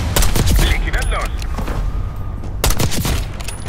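Rapid bursts of Call of Duty: Black Ops 6 gunfire crackle and boom in a dense, continuous battle mix against snipers and mortar teams, with a loud volley at the start and another near the end.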